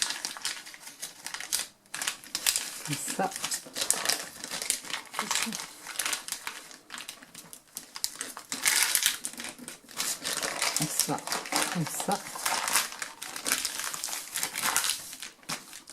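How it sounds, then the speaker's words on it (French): A rectangular sheet of paper being folded into a party hat, with close, continuous crinkling and sharp creasing rustles in irregular bursts, while a person speaks briefly. "On prend une feuille de rectangle que l'on plie en deux."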